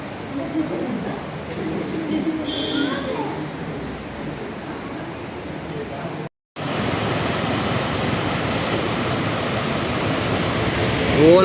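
Rainwater runs down a hillside near a Chaudeshwari temple hill after heavy rain. It makes a broad, continuous rushing wash, fairly loud and close, with a brief dropout partway through and someone talking over it.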